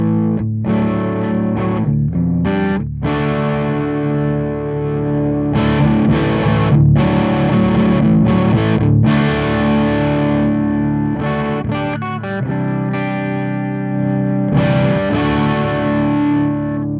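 A 1987 Charvel electric guitar on the clean channel, bridge pickup, with a mid-boost rolled up, plays chords and riffs alone, loud and sustained with a thick midrange and a slight amp edge.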